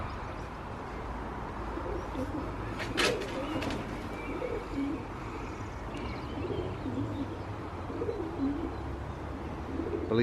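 Pigeons cooing at an abandoned football ground, soft repeated low coos heard near and fairly quiet against a faint outdoor hiss, with a brief flutter or knock partway through.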